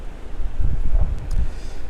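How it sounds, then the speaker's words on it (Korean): Strong, gusty wind buffets the microphone outdoors on a cold day of about minus one degree with sleet falling, making a loud low rumble that swells and surges in uneven bursts, no voices. "오늘 바람이 굉장히 심합니다."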